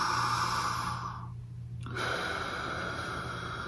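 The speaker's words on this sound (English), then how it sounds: "I like to do these inhaling through the nose and exhaling through the nose" A slow nasal exhale during a triangle breathing exercise, a steady airy rush through the nose that fades into a brief quiet pause before the breath resumes, close and alone with no talk.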